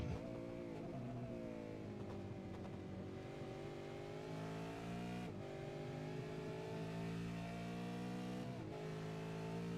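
V8 race cars at Bathurst roar along together in a tightly bunched group of five, a loud, continuous engine drone with harmonics that shift as the cars change gear and hold speed, close and steady throughout.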